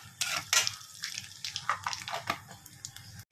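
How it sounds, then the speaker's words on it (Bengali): Nigella seeds hit hot oil in a home kitchen pan, giving a few sharp crackling bursts and spits over a quiet background, close and fairly faint, fading after a few seconds. "তেল গরম হয়ে গেছে, দিয়ে দিচ্ছি এখানে কালো জিরে ফোড়নে"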